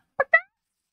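Two quick clucks from a chicken in the Minecraft video game, short and close, the second slightly longer, followed by silence.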